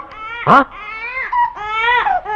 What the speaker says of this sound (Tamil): குழந்தையின் அழுகுரல் சத்தம்